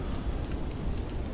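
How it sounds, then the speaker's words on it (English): Rain pours steadily in Microsoft Flight Simulator 2024 at Pula, a dense, even hiss of drops on surfaces, moderate and constant throughout. "it's starting to pour rain."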